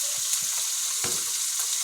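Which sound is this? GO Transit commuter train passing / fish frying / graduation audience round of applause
fish frying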